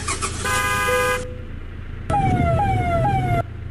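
A Fortuner's siren in Euro Truck Simulator 2 blares loud and close in two bursts: a short steady horn-like wail, a pause, then a longer stepped, descending siren tone, with no voices.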